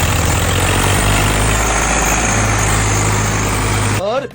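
A Pro Tec 855FE tractor engine drones loud and steady at close range while slowly towing a trailer out of a rough field track, ending in a sudden cutoff.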